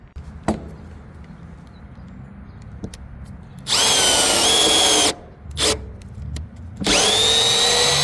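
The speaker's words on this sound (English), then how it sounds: "I'm gonna tap the holes so the screws actually screw into the wood, through the wood." A power drill taps screw holes through a wooden trailer deck in two long, loud, whining bursts of more than a second each, with a brief burst between them and faint clicks and handling before them.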